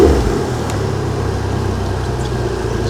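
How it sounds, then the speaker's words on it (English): Suzuki outboard boat engine idles steadily nearby, a low throbbing rumble with a faint whine, loud and even throughout. "So the engine sounds really good."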